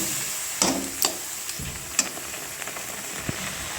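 Sesame and lote stalks stirred in a pan with a little water, a soft sizzle under a handful of scattered scrapes and knocks of the spatula against the pan.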